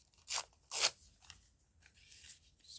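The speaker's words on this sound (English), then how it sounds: "Just randomly tearing there." A book page torn by hand in a few quick rips, two louder close tearing bursts followed by softer fainter rustles, with no talking.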